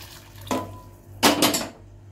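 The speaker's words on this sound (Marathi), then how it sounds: "त्यात गरम पाणी" Hot water pours into a pan of prawn masala on a home stove, two short splashing bursts, the second longer and louder, over a low steady hum.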